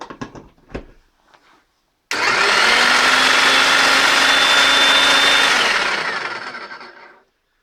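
A few knocks and taps, then a Bosch GSH 16-30 electric demolition hammer with vibration control starts abruptly and runs with a steady, loud, buzzing roar for about five seconds before winding down.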